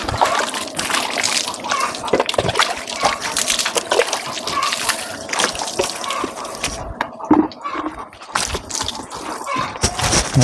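Water pours and splashes from a bucket onto a car being washed at home, in a series of uneven sloshing gushes and drips, close and fairly loud.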